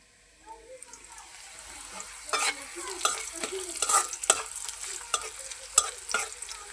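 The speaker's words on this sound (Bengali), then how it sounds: "ভাত ভাজা করার জন্য আমি পেঁয়াজটা আর মরিচটা আগে ভেজে নিতেছি" Onions and chilies frying in a pan for a fried-rice breakfast, with a soft sizzle that builds into a string of sharp crackles and clinks from stirring, close and fairly quiet, with no talking.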